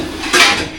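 A small pot lid set onto a cooking pot gives one brief metallic clatter and scrape, close and fairly loud, then fades off.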